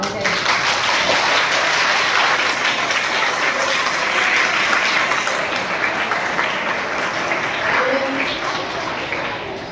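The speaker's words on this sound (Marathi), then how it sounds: "सर्वांनी एक वेळ स्वतःसाठी टाळ्या वाजवा." A crowd of students at a school Teacher's Day self-governance event claps loudly and continuously, the applause dense and sustained before tapering slightly at the end.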